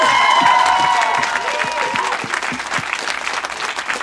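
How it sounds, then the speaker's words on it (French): Audience applause at a live comedy show in Longueuil, loud and dense at first, then easing slightly while clapping carries on throughout, with faint voices mixed underneath. "Hey, on l'applaudit."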